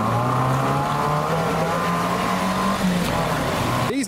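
A car engine drones loudly at high revs, holding speed steadily as it drives into a deep water ford, and then ends in an abrupt burst of noise at the very end.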